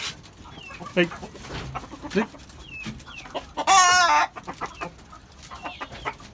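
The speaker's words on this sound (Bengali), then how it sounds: "এই পাশে যে মোরগ" Hens and a rooster in a rooftop garden coop cluck and squawk in short bursts, with one loud, sustained call in the middle and someone speaking between the calls.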